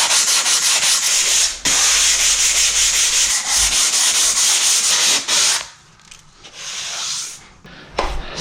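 Steady, close abrasive sanding of wood while decorating a room at home, a continuous rasping hiss that breaks off briefly and then thins into lighter, intermittent strokes near the end.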